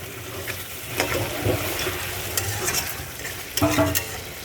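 Tomatoes tossed into a hot pan and stirred, with crackling sizzle under clattering scrapes and knocks of the spoon against the pan, close and uneven over a few seconds.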